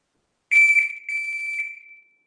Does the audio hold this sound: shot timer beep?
yes